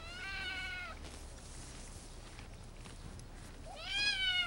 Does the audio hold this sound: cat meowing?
yes